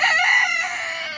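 A rooster's crow rings out loud and close in a single brief, strained call.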